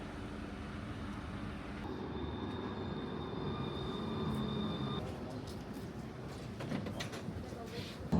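A London tram near East Croydon rumbles steadily from inside the car as it runs, a broad continuous roar with a faint tonal whine and a shift partway through, while people talk quietly in the background.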